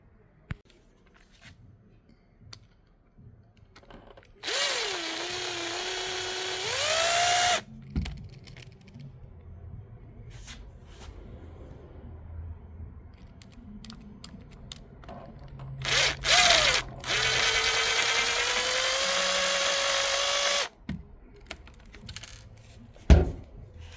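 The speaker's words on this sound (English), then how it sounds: "the piston on the inside of the caliper needs to be sanded down, so let's get to doing that" Brief bursts of a small high-pitched power tool grind away at a brake caliper piston from an RC motorbike, two separate runs of a few seconds each, with their pitch sliding. Quiet clicks and handling knocks of small parts fall in between.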